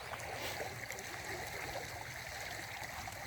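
Steady rushing water flowing continuously from a village pond's reservoir, loud and close, with no voices over it.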